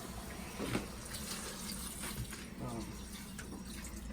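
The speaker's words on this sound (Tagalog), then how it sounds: "Ato na siyang butangan og tubig guys." Water pouring into a cooking pot for chicken tinola, a steady quiet splashing stream that runs for the whole few seconds beneath a soft voice.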